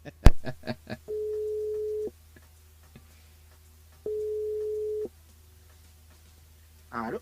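Telephone ringing tone on an outgoing call to a radio show guest: two long steady electronic rings, each about a second, separated by a pause, after a brief clatter at the start and a faint voice at the end.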